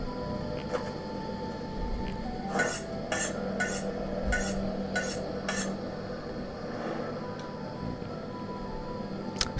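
A boomerang being sharpened on a sharpening stone in a medieval adventure game, heard as a series of about six quick, evenly spaced scraping rasps over a low background hum.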